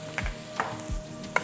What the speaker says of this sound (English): And so now I'm going to put my orzo in.